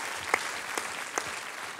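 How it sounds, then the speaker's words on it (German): A small, quiet round of applause from an audience at a prom-night event, soft and steady with a few sharper claps standing out. "Können wir schon mal noch mal einen kleinen Applaus abholen?"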